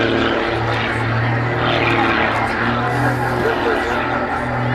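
A Muscle Pitts biplane's propeller engine drones loudly and continuously during aerobatic snap rolls at an RAF air display. The snarl swells and fades slightly as the biplane heads away.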